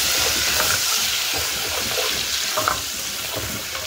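Garlic sizzles steadily in hot, salted oil as it fries until browned, a loud, continuous hiss with faint stirring clicks.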